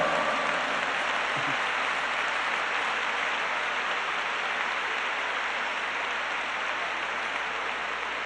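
Congregation in a church service applauding, a dense, even wash of clapping from many hands that continues without a break, fairly distant and soft.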